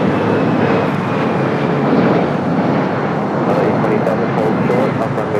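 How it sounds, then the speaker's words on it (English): A United Boeing 787-9 Dreamliner bound for Tokyo Narita rolls for takeoff on the south side at LAX, a loud steady roar of jet engines that fills the scene, with a voice talking over it. "We do have a United Dreamliner, the flight to Tokyo Narita, flight 32, number 2 for takeoff here on the south side, 787-9 Dreamliner."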